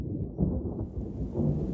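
Monsoon thunderstorm over a forest, a deep rolling rumble of thunder with rain, loud and close, continuous through the short stretch.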